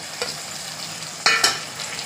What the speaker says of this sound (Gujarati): આવી રીતે સરસ આમ થોડી વાર હલાવવાના એટલે ટામેટા પણ આપણા ચડી જશે